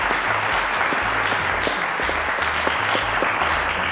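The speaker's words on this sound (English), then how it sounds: "A round of applause to Rukayat" Studio audience applauding a contestant on the Cowbellpedia quiz show, a dense, steady wash of clapping that holds at an even level throughout, with a low repeating musical bed underneath.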